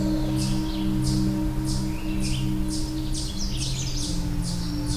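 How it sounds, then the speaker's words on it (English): A Canada warbler sings from a perch overhead on a rocky slope, its bright, jumbled bursts of song repeating about once a second, moderately close, over a steady low hum of background noise. "I think I've got a Canada warbler."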